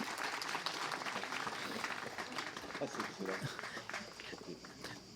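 Applause from a French lecture audience for the speaker Patrick, dense steady clapping throughout with a voice talking over it.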